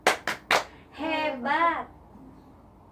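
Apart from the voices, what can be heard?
group clapping hands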